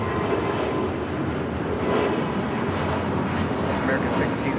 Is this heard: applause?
no